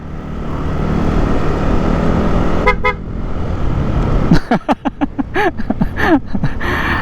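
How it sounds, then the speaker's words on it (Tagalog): A car horn toots in a rapid string of short, loud honks on a ride heading toward Cabongaoan Beach, the blasts clustered near the end above steady engine and road noise. "Ganda ng busina mo, Sir Eniel. Shout out sa busina mo."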